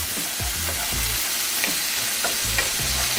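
Salmon fries in a pan as lemon juice is stirred in, a steady sizzle broken by several close, rhythmic stirring scrapes.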